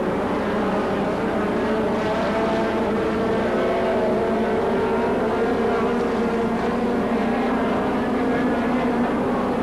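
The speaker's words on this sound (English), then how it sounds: "Non-stop high-speed half-mile midget racing here at the Las Vegas Motor Speedway." Midget race cars circle the half-mile oval at Las Vegas Motor Speedway, engines droning and whining continuously at a distance with shifting pitch as the pack runs.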